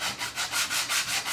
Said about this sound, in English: we use these sanding blocks because they're